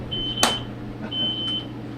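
A fire alarm in a smokehouse sounds as a thin, high electronic tone in short beeps, faint against a low background hum, with a sharp knock partway through.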